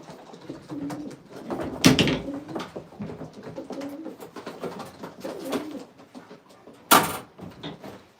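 Racing pigeons coo in a breeding loft, low burbling phrases repeating close by, broken by two sharp clattering knocks like a door or wing slap.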